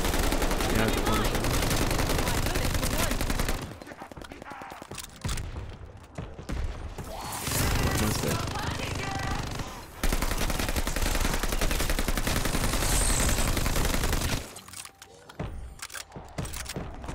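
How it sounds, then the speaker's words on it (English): Machine gun fire traded through a doorway against heavy enemies in Call of Duty: Vanguard Zombies, loud sustained automatic bursts that break off briefly and then resume in long dense volleys. "Literally just me and one of these big guys just shooting through the doorway at each other"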